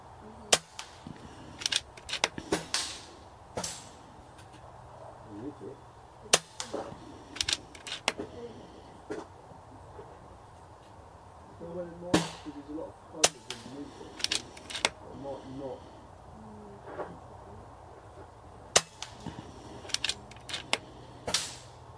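Airmaks Katran air rifle firing pellets at targets and tins outdoors in light wind: a series of sharp, close cracks spaced irregularly a few seconds apart, with faint metallic impact ticks and soft breeze between shots.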